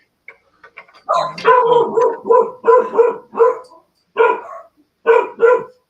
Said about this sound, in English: Got my dogs going